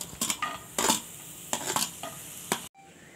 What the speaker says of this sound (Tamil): இப்போ பெரிய வெங்காயத்தை போட்டுறலாம்.